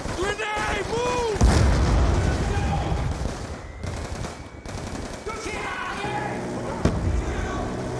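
Grenade explosion amid combat in Call of Duty Black Ops II, a dense, loud blast and rumble mixed with continuous gunfire and battle noise, with shouted voices at the start.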